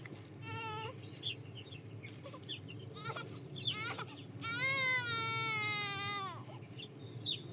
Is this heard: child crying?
yes